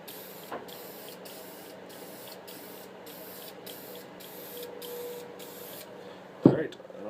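VHT Nightshades tint sprayed from an aerosol can onto a car tail light, a series of short, even hissing bursts in a regular rhythm, close up, ending with a handling clatter.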